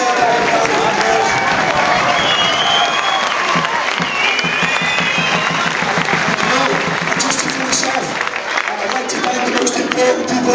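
A crowd gives a long, steady round of applause for the Sligo Rovers committee at a football celebration, with dense clapping throughout and some voices mixed in.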